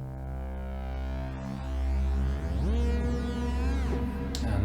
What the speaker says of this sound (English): Turn on the reverb and the delay.